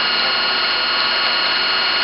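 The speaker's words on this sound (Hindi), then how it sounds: "डीसी मोटर 980 आरपीएम पर चल रही है।" A DC motor runs at about 980 rpm with a steady, loud, continuous whine and hum, heard alone without any talk.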